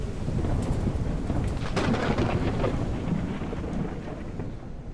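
Violent thunderstorm in the survival game Mist Survival, with heavy torrential rain roaring steadily and a loud crackling thunder crash rolling through the middle, dense and close throughout.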